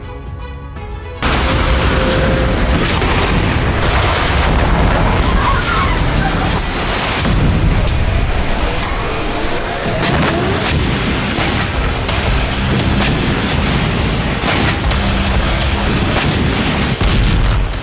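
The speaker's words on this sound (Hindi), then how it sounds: "इजरायली बमबारी से गाजा एक बार फिर दहल उठा।" Israeli bombing in Gaza, heavy explosions and booms hitting repeatedly over a loud continuous rumble, with voices heard among the blasts.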